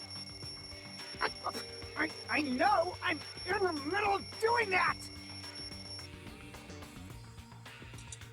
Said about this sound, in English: The wall clock just started ringing.